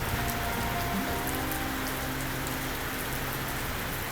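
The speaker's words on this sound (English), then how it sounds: "It has decided to start downpouring on us" A heavy rain downpour pours onto surfaces at an outdoor sawmill, a dense, constant hiss of drops that holds steady throughout with a faint low hum underneath.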